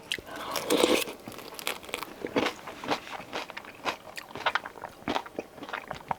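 Someone eats whole grilled beef large intestine with crisp onion in sauce, giving close, irregular crunches and wet chewing bites that come in quick bursts, with no talk over them.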